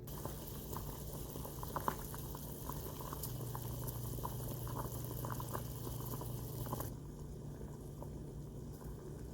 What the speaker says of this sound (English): while that is simmering and doing its thing